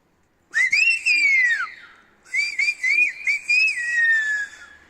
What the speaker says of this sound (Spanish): Vamos a ver cómo silba este silbador tinerfeño.